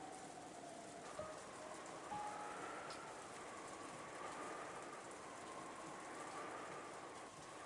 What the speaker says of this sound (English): the sound of the rain sneaking into the dining hall